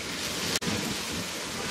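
Chopped green beans and carrots frying in oil, a dense, steady sizzle with one brief dropout in the middle.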